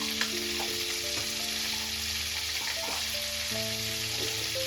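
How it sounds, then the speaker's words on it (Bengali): Black cumin seeds sizzling in hot oil, left after frying prawns for a Bengali bottle gourd and prawn curry: a steady close frying hiss with light crackles and faint clinks and scrapes. "এবার আমি ওই তেলের মধ্যে দিয়ে দেবো কালো জিরা ফোড়ন"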